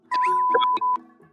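Several people use their voices to imitate fax machine noises and beeps, a short burst of overlapping warbling tones and chirps that lasts about a second.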